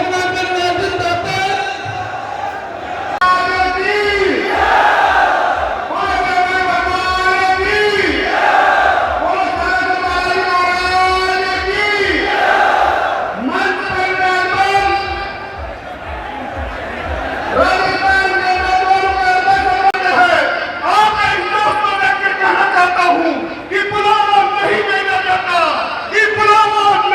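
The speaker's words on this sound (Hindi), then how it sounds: "जोरदार तालियां बजा दीजिए, ऊपर हाथ करके हनुमान परिवार का साला संगीत सरजमी पर स्वागत किया जाए" A large crowd at Hanuman Beniwal's rally at Salasar Dham roars and cheers continuously, with loud sustained shouting and chanting under an amplified voice leading the call.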